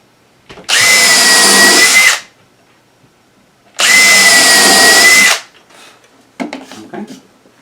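A power drill drives screws into a wooden planter stand in two sustained whining bursts, each about a second and a half long, with a pause between them and some light handling noise afterward.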